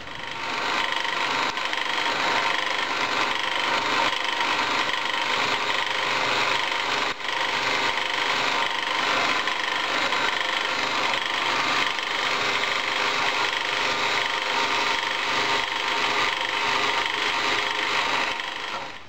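Steady, continuous rasping of a hand saw cutting risers off a metal casting, even back-and-forth strokes running without pause and no voices.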